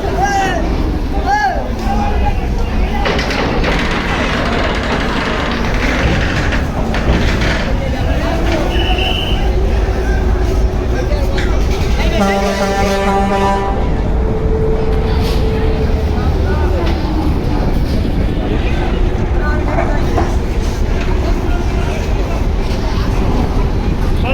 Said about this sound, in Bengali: এম খান সাত লঞ্চ নয়টা বেজে ঠিক একুশ মিনিট বরিশাল ঘাট ত্যাগ করতেছে